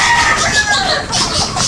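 White rooster clucking close by, a steady stream of soft calls running through the short stretch with outdoor farm noise behind it.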